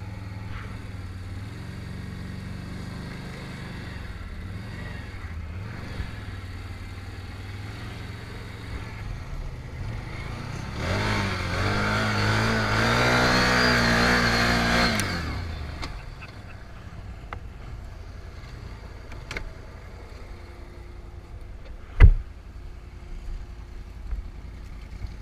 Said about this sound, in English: Spin the wheels for Peter, Bobby.